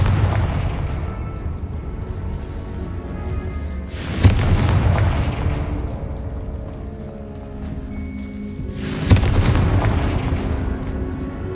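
Two heavy booming blasts of the Confringo spell in Hogwarts Legacy, several seconds apart, each with a sharp crack and a long rumbling decay over a steady low game ambience.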